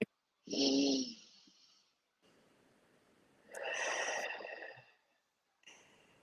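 A slow, deep breath drawn in and let out alone in a quiet room, the inhale and exhale close and soft with a brief pause between them and another breath beginning at the end.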